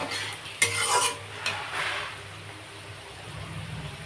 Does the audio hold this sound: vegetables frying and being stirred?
yes